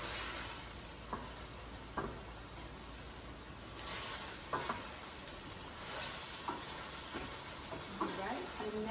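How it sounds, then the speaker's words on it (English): Beef stew sizzling steadily in a pot while being stirred in a home kitchen, a continuous quiet hiss broken by soft periodic scraping strokes of the spoon, close-miked and faint overall. "And just stir that around."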